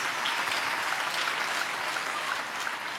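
Church congregation applauding during a sermon, a dense, even burst of clapping from many hands at moderate distance, held steadily for a few seconds.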